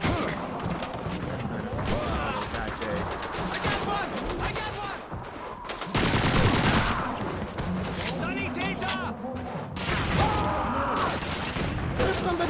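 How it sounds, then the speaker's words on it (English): Dense machine gun fire rattles continuously through a Call of Duty 2 battle near trenches, loud and layered with distant booms, while a player talks over the din. "These machine guns don't really work so well trying to hit me over here"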